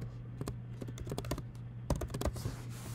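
Quick fingers type a short word on a computer keyboard, a close, rapid run of light clicking keystrokes in two bursts separated by a brief pause.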